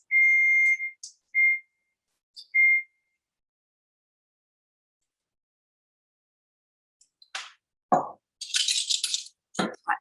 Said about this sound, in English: there's my 2-minute timer gone again